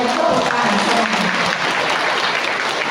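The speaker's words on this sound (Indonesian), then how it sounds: "Boleh saya dengan tepuk tangan?" An audience at a school anniversary parenting class in Depok breaks into loud, dense applause, sustained clapping from many hands filling the room throughout.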